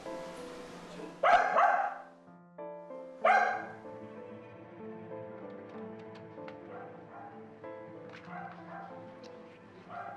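A dog gives two sharp barks, followed by softer whining, tonal vocal sounds against a quiet background.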